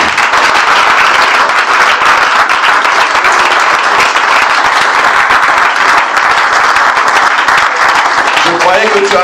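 A standing church congregation claps and acclaims the Lord in a dense, continuous wall of applause, with voices cheering and shouting mixed throughout, loud and steady from start to finish.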